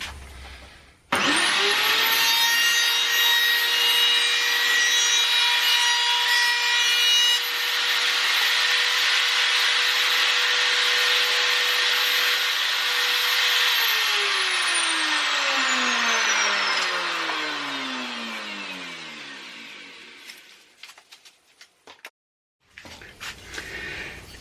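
A power saw trims a glued wooden strip to a 30 mm width. The blade spins up sharply, holds a loud, steady whine through the cut, then winds down in a falling tone before faint knocks and silence.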